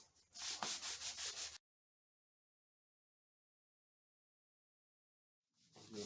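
Fine 5,000 grit paper rubbed across the frets of a Telecaster guitar gives a brief run of quick, close strokes, then stops into silence before a few more strokes start up near the end.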